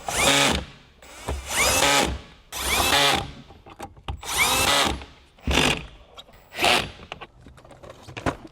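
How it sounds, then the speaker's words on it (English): A power tool drives 10mm bolts while a Toyota Land Cruiser amplifier is installed in 2024. It sounds as a series of loud, close whirring bursts, roughly one a second, with short gaps between them. "then we'll go over it with our power tool"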